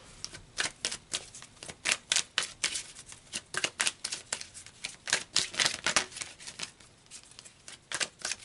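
Tarot cards being shuffled in a quick, steady run of crisp riffling snaps over about eight seconds, close and fairly loud, with no talking.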